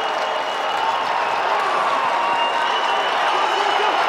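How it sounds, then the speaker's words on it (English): College lacrosse crowd at Syracuse versus Army, cheering and clapping in a steady wash of noise, moderately loud and sustained throughout with no distinct voices on top. "The crowd's getting into it."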